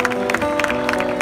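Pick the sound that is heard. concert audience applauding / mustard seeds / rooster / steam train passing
concert audience applauding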